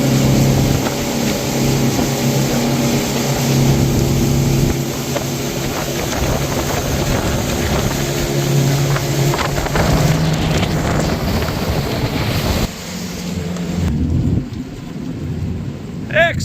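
A boat motoring back to shore after a freediving trip for pāua and kina in the South Island, a loud, constant engine roar and rushing wind and water noise, easing off toward the end.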